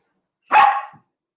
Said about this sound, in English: I don't know why she's barking on that.